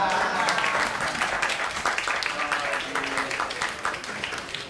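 A room full of people clapping steadily, the applause fairly loud at first and slowly tapering off.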